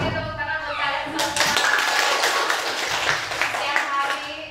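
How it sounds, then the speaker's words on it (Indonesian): Children clapping in a classroom, starting as a few scattered claps and swelling into a lively, uneven burst of many small hands, with kids' voices mixed in. "Oke, tepuk tangan buat kalian semua."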